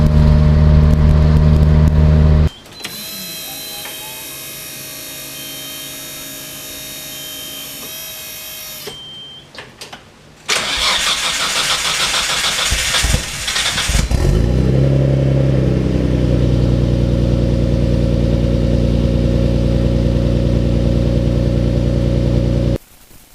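A Toyota SW20 MR2 turbo engine revs and pulls in loud bursts, broken by brief gaps and gear changes, then settles into a steady, heavy drone close to the microphone.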